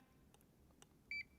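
A single short electronic beep from a library card scanner, a clear tone lasting about a tenth of a second over faint room noise, following a few soft clicks.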